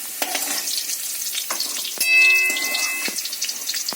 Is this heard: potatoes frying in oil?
yes